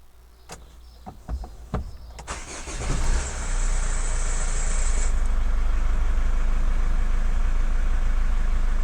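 A Chevrolet Captiva starts close by after a few clicks and clunks, the engine catching with a brief burst and then settling into a steady, loud idle with no talking.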